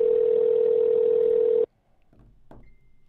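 A steady telephone dial tone hums loud and unbroken for about a second and a half, then cuts off, followed by a few faint clicks and soft muffled noises from the line.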